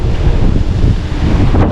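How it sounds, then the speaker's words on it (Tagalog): Strong typhoon wind roars outside and buffets the microphone in a steady, loud low rumble with no voices. "lakas ng hangin"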